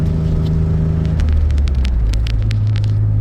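A 2011 Jeep Wrangler engine is pulling hard up a hill with a steady loud low rumble, and the pitch shifts partway through as the revs change.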